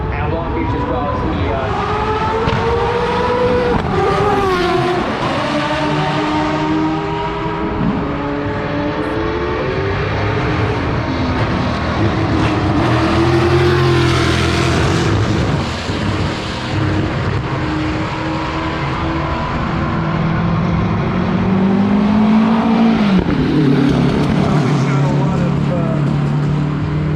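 Historic IndyCar race cars lapping the Long Beach Grand Prix street circuit, engines rising and falling in pitch as several cars pass near and far, with commentators talking continuously over the loud racing.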